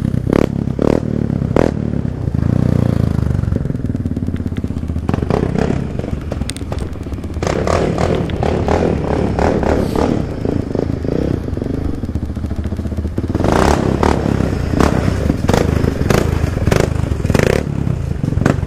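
A Yamaha Raptor 70 quad bike engine revs and buzzes continuously nearby, rising and falling with throttle blips, with occasional clatter and scraping as the small ATV is ridden.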